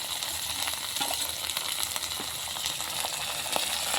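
Onion fries in oil with garlic and ginger paste, making a steady, dense sizzle with light crackles throughout, close and moderately loud.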